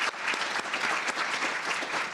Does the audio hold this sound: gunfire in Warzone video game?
no